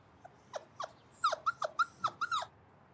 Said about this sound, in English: I was told that it was a dog.